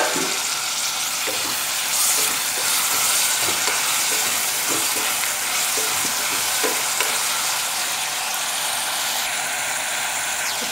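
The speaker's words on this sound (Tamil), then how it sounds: "இப்போ நான் தக்காளி சேர்க்க போகிறேன்." Tomatoes go into spices frying in a pan for bisibelebath, producing a steady, loud hiss of sizzling oil that lasts throughout, with faint scraping stirs underneath and no voices.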